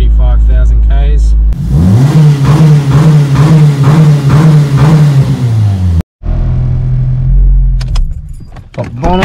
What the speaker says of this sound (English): First thing I'm going to do is warm the car up for 5 minutes or so.